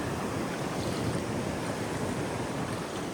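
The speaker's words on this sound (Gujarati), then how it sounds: "આવી રીતના મોજા આવતા હોય" Sea waves wash in steadily along a shoreline during shrimp fishing, a dense, continuous roar mixed with wind buffeting the microphone, with no voices.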